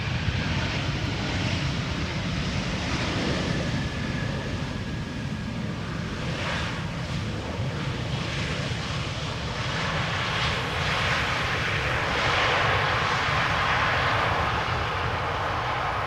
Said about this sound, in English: This is Lufthansa A319, flight 2302, arriving from Munich. 777-300 behind it, KLM flight 592,